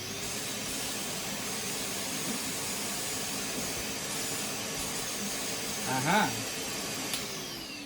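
A Numatic Henry Compact HVR160 vacuum cleaner runs with a steady, loud whooshing roar and hiss throughout, while a man briefly exclaims near the end over the constant motor noise.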